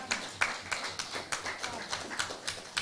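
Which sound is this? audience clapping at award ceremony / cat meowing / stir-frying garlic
audience clapping at award ceremony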